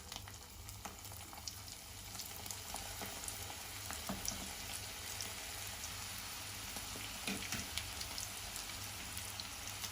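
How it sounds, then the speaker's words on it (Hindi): Chicken roll samosas deep fry in hot oil over medium heat, giving a dense, steady crackling sizzle up close with scattered sharper pops and no talking. "ऑयल गरम हो चुका है, हम इसमें रोल डालेंगे।"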